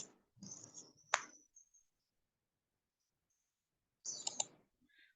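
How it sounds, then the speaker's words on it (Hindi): Faint computer mouse clicks during work on a computer's operating system: a couple of sharp, isolated clicks among soft rustling in an otherwise quiet room. "ओके, इसमें नहीं आ रहा है, तो हम ओपन पे क्लिक करते हैं।"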